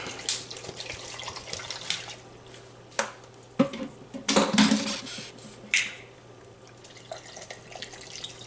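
Water splashes and trickles into a container of coconut for homemade coconut milk. The sound comes close and fairly loud, with uneven pours and clunks against a low background hum.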